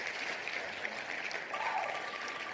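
A clapping sound effect plays during a hockey ticket giveaway elimination, a steady patter of applause that is moderately loud and continuous, with no voices over it.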